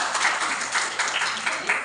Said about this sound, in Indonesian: beri tepuk tangan untuk sabar